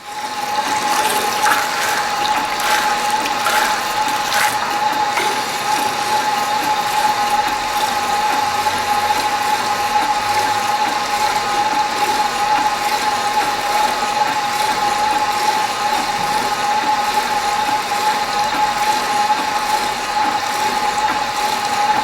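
A Tiger plaster sprayer pump is flushed with water, making a continuous mechanical clatter and steady whine with rhythmic ratcheting under a rush of water, loud and close, with no talk.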